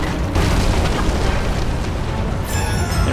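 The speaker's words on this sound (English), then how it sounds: "Come on, bomb, blow up." A bomb exploding in the video game Lara Croft and the Temple of Osiris: a dense, roaring, continuous blast rumble lasting about three seconds, loud and heavy in the low end, with a brighter burst near the end and no talking.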